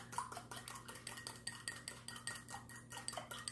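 A sriracha, oil and rice vinegar dressing is stirred with a utensil, giving quick, rhythmic, faint clinks against the bowl over a low steady hum.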